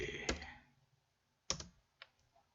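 A few sharp, quiet computer mouse clicks come one after another in a nearly silent room, with short gaps between them.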